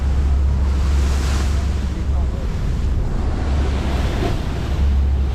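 Sunseeker yacht motoring through bigger ocean swells off the southwest corner of Mallorca, a loud constant rush of wind and water over a deep engine drone, with no clear talking.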